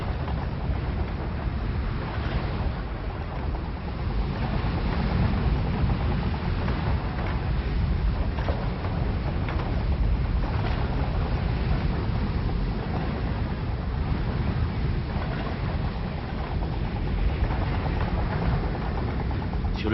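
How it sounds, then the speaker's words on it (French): Steady low wind roar with a continuous rumbling drone from a turning windmill on the Lasithi Plateau, Crete, unbroken and fairly loud throughout, no voices. "Dès que le vent se lève, l'éolienne de Vassilis ne sent plus ses années et elle se met à tourner"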